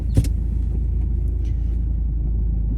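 Inside a Nissan GU Patrol on the move, a deep, steady engine and road rumble fills the cabin, with a brief knock near the start and faint clicks over the low drone.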